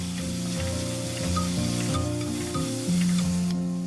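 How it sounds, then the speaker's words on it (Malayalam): Bitter gourd frying in oil with green chillies and curry leaves, a steady soft sizzle running throughout with occasional stirring, close and continuous, no talking. "ഈ പാവയ്ക്ക ഒരു പകുതി വേവാവുന്നത് വരെ ഇങ്ങനെ ഈ എണ്ണയിൽ കിടന്ന് ഇടയ്ക്കിടയ്ക്ക് ഒന്ന് ഇളക്കി കൊടുത്തോണ്ടേയിരിക്കാം"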